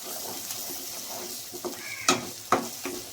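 Masala frying in oil in a pan, a steady soft sizzle punctuated by a few sharp clinks and scraping stirs near the end, no voices.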